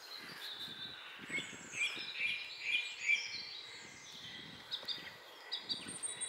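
A wild bird calls outdoors, a series of bright repeated chirps and whistled notes in a few short phrases, moderately near but soft over faint rustling and footsteps, with no talk.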